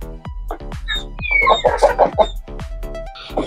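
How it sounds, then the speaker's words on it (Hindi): An Aseel rooster gives a run of clucks and throaty calls close by, in short uneven bursts that rise to a louder squawking stretch midway. Faint background tones run underneath. "तो यार ये है मुर्गा माशाल्लाह"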